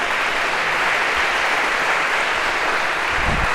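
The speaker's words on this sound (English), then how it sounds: "round of applause for our one brave volunteer here." Lecture hall audience applauding a volunteer coming up on stage, a dense unbroken wash of clapping from many hands, loud and steady throughout.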